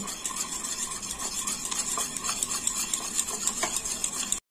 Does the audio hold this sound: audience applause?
no